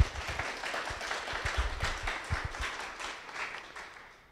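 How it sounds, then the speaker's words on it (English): A round of audience applause at the 2021 Namibia Scholar Investment Awards, a moderate crowd clapping steadily with some nearer distinct claps, gradually dying away. "Can we get another round of applause for everyone who came up today?"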